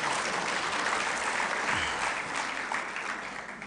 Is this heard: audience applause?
yes